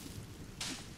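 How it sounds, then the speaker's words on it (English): Rain in the video game The Forest, a steady broadband hiss of falling drops with a brief louder surge of spatter partway through, continuous and fairly faint. "now it's raining"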